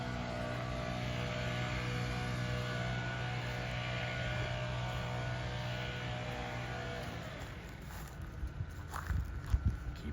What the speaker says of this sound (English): Someone here at the campground is doing some leaf blowing.